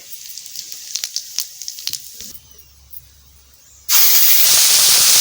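Whole cumin seeds hit hot oil in a pan for prawn malai curry, opening with scattered crackles and pops, a brief lull, then a sudden loud, steady sizzling hiss.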